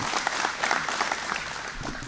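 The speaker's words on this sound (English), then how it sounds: "I'd like to give another round of applause for all those organizations and people" A crowd at a company opening ceremony claps in a sustained, fairly soft round of applause, with individual claps flickering through the even texture.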